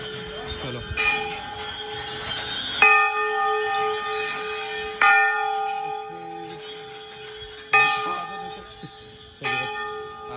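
Temple bells ringing at Mana village, a mountain village, with about five separate strikes whose bright metallic tones linger and overlap between hits, fairly close and clear.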